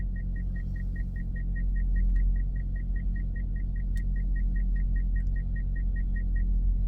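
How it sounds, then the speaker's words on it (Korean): A car runs with a low, steady engine rumble as it starts and pulls away, while a quick electronic chime beeps in an even rhythm over the drone. Nobody speaks. "지금 출발 시동 걸고 바로 출발하는 거예요"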